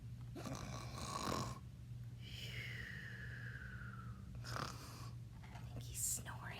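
A storyteller imitates a sleeping caterpillar's snoring for children, giving drawn-out breathy snores alone, with a long whistling exhale between them and quieter snorts near the end.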